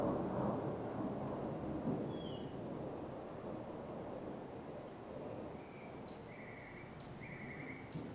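Thunderstorm in West Palm Beach County, Florida: steady rain hiss with a low, rolling rumble of distant thunder throughout, and a few faint bird chirps near the end.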